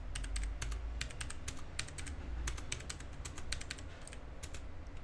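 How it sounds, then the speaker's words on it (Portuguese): Keys tapped on a computer keyboard while entering a number into a C program, a steady run of close, crisp clicks over a low background hum. "eu vou digitar um número qualquer"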